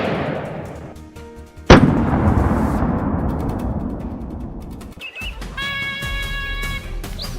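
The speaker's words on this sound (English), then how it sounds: "a bullet is fired instantly, and the boar collapses on the spot" A single loud rifle shot rings out at a wild boar during a hunt, a sharp crack followed by a long rolling echo that fades slowly, with outdoor ambience around it.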